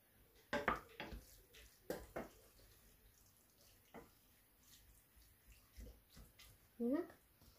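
Water poured into a cooking pot while preparing Filipino ginisang mongo (mung bean stew) at home, a soft splashing trickle in short bursts with faint kitchen clatter and a brief voice near the end.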